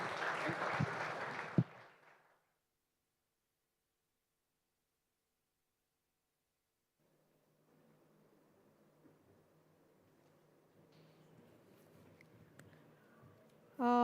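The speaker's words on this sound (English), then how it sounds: "Round of applause once again, ladies and gentlemen, for Union Minister Shri Prahlad Joshi" Audience applause at an India Sustainability Mission event: a brief burst of clapping at the start that dies out, then a long near-silence and low murmuring hall noise, with another loud burst right at the end.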